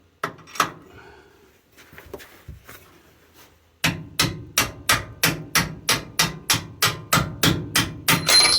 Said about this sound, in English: I wonder if I can hammer it out just the way